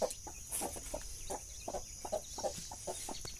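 A hen with two chicks clucks softly in a quick, uneven series of short notes, faint and close against a quiet background.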